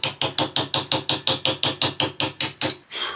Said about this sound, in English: Getting the chisels out.